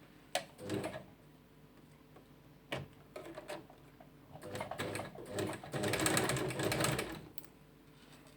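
A sewing machine stitches the front panel of a headscarf to its round section in short bursts of mechanical whirring with pauses between, close up and moderately loud, with no talking.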